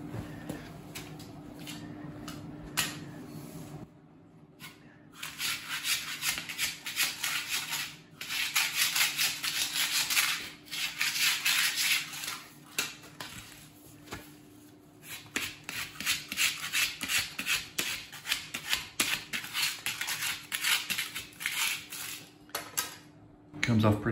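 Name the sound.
scraping foam-backed lino flooring off the floor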